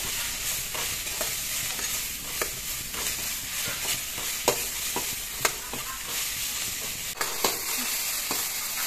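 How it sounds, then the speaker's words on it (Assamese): Whole roselle leaves fry in hot oil, giving a steady close sizzle broken by several sharp stirring clicks and scrapes against the pan, with no talking. "তেলত ভাজি ল'ম।"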